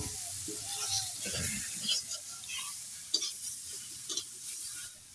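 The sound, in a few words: fish curry being stirred in pan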